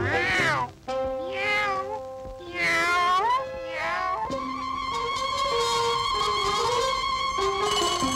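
A cat in a vintage animated cartoon meows in several long, wavering, sung cries that slide up and down in pitch, loud and close, blending into orchestral music by the end.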